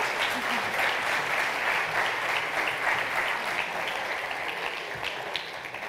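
Audience at a university entrepreneurship event applauding in a steady, full round of clapping that stays even and slowly eases toward the end.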